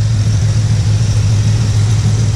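A 1984 shortbed truck with a turbo 375 transmission and 2400 stall converter idles steadily, its engine a loud, close, continuous low rumble with no talk over it.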